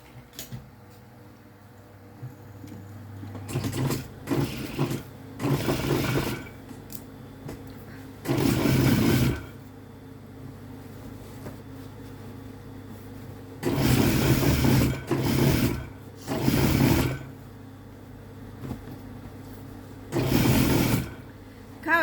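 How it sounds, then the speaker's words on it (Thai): A sewing machine stitches along a marked line on a shortened leg of genuine Levi's jeans. It runs in about five separate whirring bursts of one to two seconds, with quiet pauses between them. "เสร็จแล้วเราก็มาเย็บตามขีดนะคะ ตามที่เราขีดไว้เจ็ดนิ้ว"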